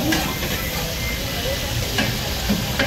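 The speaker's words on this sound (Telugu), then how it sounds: "ఇప్పుడు పచ్చిమిర్చి అయితే చక్కగా వేగుతుంది ఆయిల్లో." Slit green chillies frying in hot oil for Telangana-style chicken, a loud, dense close sizzle with occasional stirring scrapes, no talk.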